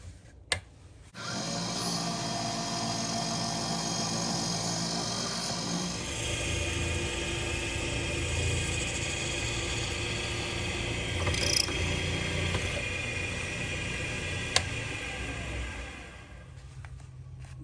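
A 19/64 bit drills half an inch into an acrylic pen blank for a turquoise fountain pen, a steady mechanical whir that runs loud and continuous for most of the stretch, with a faint tick or two near the end as it winds down.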